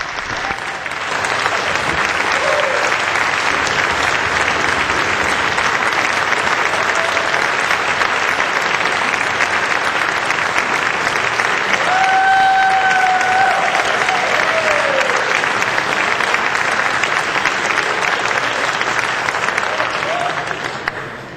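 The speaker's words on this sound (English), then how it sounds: "I just thought you'd join me and give him a round of applause" A long round of applause fills a state House chamber during a legislative floor session, many hands clapping in a dense, steady wash with faint cheering, loud and unbroken for about twenty seconds.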